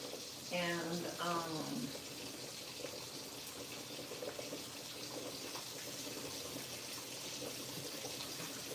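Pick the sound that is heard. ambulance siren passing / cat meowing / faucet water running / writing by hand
faucet water running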